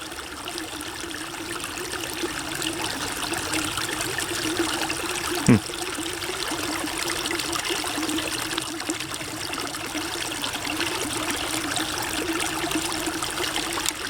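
A small creek trickling and burbling steadily over stones, a soft continuous water wash with one brief knock partway through, heard up close with no voices.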